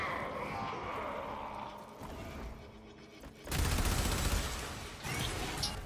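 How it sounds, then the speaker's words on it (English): Heavy explosive gunfire from a Warframe weapon firing volatile, grenade-like rounds, a dense loud burst of blasts surging in the second half, with a softer mechanical rattle before it. "They're just very volatile bullets, that's all. It's like, you're just shooting grenades at them."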